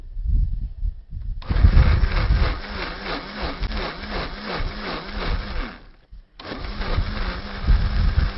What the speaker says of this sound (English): you need to blend this mixture until it becomes soft, smooth, and no visible lumps seen